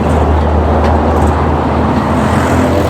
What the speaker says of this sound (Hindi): लेकिन बहुत रश होती है गाड़ियों की यहाँ